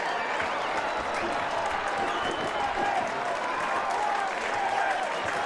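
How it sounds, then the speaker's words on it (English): A stadium crowd applauds and cheers after a near goal, a shot off the crossbar, at a Detroit City FC versus Loudoun United FC football match. The applause is a dense, steady roar throughout, with commentary faintly beneath it. "A bolt of lightning from Atez Juve nearly gave City the lead, and the crowd shows the appreciation."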